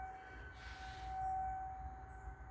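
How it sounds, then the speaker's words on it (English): Tornado siren wailing in the distance, a faint steady tone that swells and fades over a couple of seconds under low background rumble. "Tornado sirens are going off."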